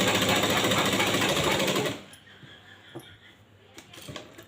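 Sewing machine stitching a blouse lining, a rapid close mechanical chatter for about two seconds that stops abruptly, followed by quiet handling clicks and faint room noise.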